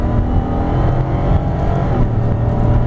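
A 2012 Chrysler Town and Country minivan accelerating toward 60 mph under part throttle, heard from inside as a steady, fairly loud low engine drone with road noise and no talking.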